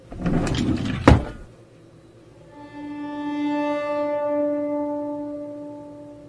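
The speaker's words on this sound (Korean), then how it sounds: "그렇게 서랍을 열었는데" A drawer holding odds and ends slides open with a quick wooden scrape and knock, followed by a sustained eerie tonal drone in a horror story setting.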